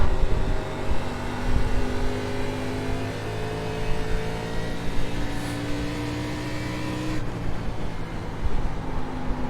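An ARCA Series race car engine in iRacing at Iowa Speedway holds a loud, sustained drone, its pitch shifting gradually as the throttle is worked, with a brief change near the end.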